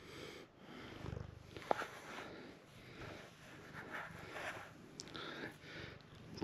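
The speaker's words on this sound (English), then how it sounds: "Kitty loving up on the microphone," A cat purrs right against a microphone. The purr is a soft, low rumble that rises and falls in gentle cycles, with one brief click of contact partway through.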